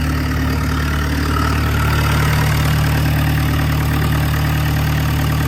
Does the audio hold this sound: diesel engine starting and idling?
yes